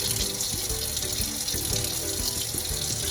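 Tap water runs steadily into a kitchen sink as hands are rinsed beneath it, a continuous close splashing stream with no pauses.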